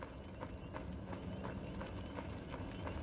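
Horse hooves galloping in the Trek to Yomi video game, a faint, steady rhythmic clip-clop under a low rumbling game soundscape.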